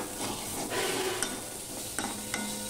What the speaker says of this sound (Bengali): এবার আমি মশলার সাথে গোবিন্দভোগ চালটাকেও ভালো করে ভেজে নেব।